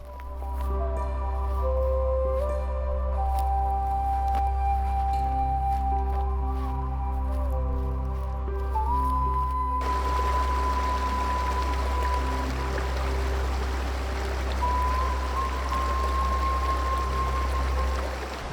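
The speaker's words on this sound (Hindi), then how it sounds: "The water is crashing down from such a height. इतना लाउड साउंड है, इट्स सो पावरफुल।" Tiger Falls near Chakrata, Uttarakhand, pours down from a great height in a forest, making a constant heavy rushing roar with tonal music layered over it.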